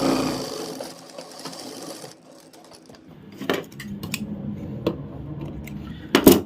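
Sewing machine stitching a fabric pocket on a loose palazzo, a close whirring run of the needle that pauses midway, then short bursts of stitching with clicks and fabric handling, no speech.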